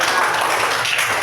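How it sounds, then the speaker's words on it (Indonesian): Classroom students clapping together in a brief, dense burst of applause, steady and fairly loud throughout. "Pinter, tepuk tangan."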